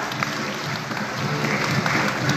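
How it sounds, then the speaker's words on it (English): An audience at a school Independence Day event claps for the top-scoring students, a loud, steady stream of many hands applauding close by without a break. "keep clapping for all the toppers"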